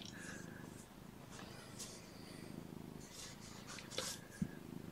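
Several young kittens squabble and mew while nursing at their mother, with purring underneath and brief higher squeaks rising and falling over the near, steady rumble.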